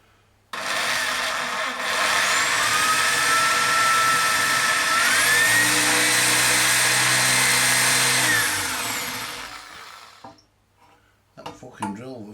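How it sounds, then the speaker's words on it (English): An electric drill with a blunt bit whines loudly and steadily for about nine seconds while boring into a CB radio case to fit an IEC socket, its pitch rising and sagging under load before stopping, followed by brief handling clatter. "Fucking drill bit's gone a bit blunt."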